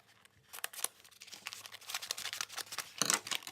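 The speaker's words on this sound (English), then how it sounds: "let me just quickly cut this open" Scissors or a blade slicing open a mail package, with crinkly snipping and tearing of packing material over a few seconds, close and fairly quiet, ending in a louder rip.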